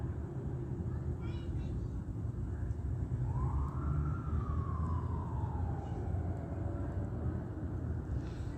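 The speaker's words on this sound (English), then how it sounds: "they bleep their sirens with the lights on the vehicle" Police siren from a car passing the intersection of 1st and C Street, a single faint wail that rises and then slowly falls, heard at a distance over a constant low rumble of outdoor noise.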